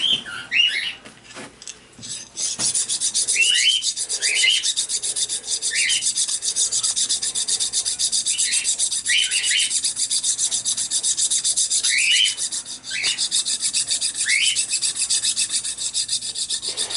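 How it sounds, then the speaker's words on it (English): Rusty hand file rasping against a coin ring being rotated as it is shaped, a continuous scraping stroke sound close up, with birds chirping intermittently in the background. "I'm rotating it as I'm filing it, trying to keep it even. Yes, my file is rusty."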